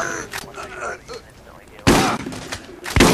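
Gunfire in the video game Borderlands, bursts of sharp shots that come in loud clusters, mixed with excited player voices talking over the action.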